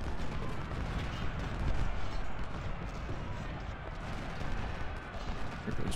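Massed musket fire crackles in a Civil War battle in Ultimate General: Civil War, a dense, continuous roll of overlapping shots with no pauses.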